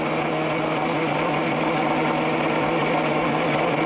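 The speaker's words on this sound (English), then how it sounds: "Hear the rough sound from that Ford Cosworth engine as the electronic speed limiter cuts in" A Ford Cosworth race car engine drones at a steady, rough, constant pitch as the electronic pit speed limiter cuts in, loud and unbroken throughout without any speech.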